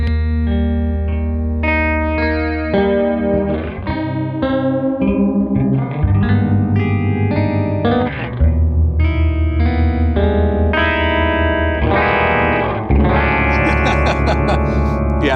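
An electric guitar runs through a pitch-shifting effect pedal set to only its upper shifted voice, producing a sequence of sustained, chorus-tinged and slightly distorted notes and chords that change every second or two.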